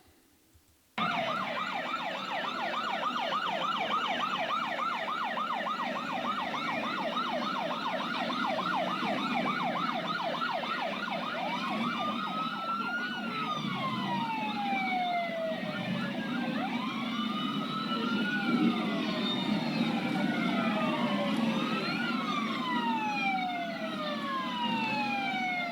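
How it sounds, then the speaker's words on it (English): Emergency sirens wail continuously, several overlapping with rising and falling tones, over steady road traffic rumble. "they drowned them out with their sirens."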